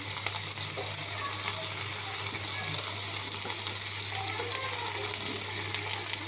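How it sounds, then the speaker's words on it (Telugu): Soaked chana dal frying in a pan for a ridge gourd curry, giving a steady, even sizzle with faint stirring clicks throughout and no talk. "అవి కూడా వేయించుకోవాలి"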